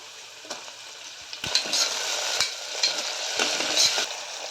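Tomatoes go into a pan with onions, green chillies and curry leaves for a paya dish, and a steady frying sizzle runs throughout, punctuated by several sharp spatula scrapes and knocks against the pan.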